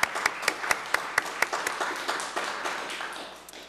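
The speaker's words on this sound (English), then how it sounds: "I would like to give her a round of applause." A handful of people clap at a community gathering, several sharp, distinct claps up front that blend into looser, thinner applause and taper off.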